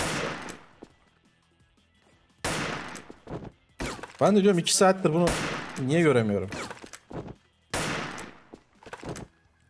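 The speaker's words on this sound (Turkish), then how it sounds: "Biri bana bir yerden sıkıyor ama nereden sıkıyor?" Enemy gunfire in the online shooter Wolfteam, with sharp bursts of shots cracking out at intervals. Someone talks excitedly over and between the shots.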